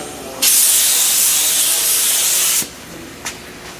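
A paint spray gun held sideways lays down a coat of metallic paint in one loud, steady hiss lasting about two seconds, which then cuts off abruptly, followed by a brief faint puff.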